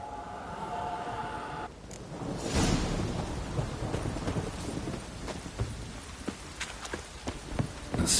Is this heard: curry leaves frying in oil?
no